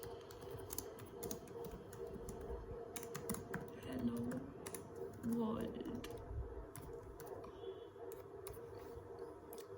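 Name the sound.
typing a message on a computer keyboard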